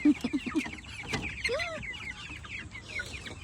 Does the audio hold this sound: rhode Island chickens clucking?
yes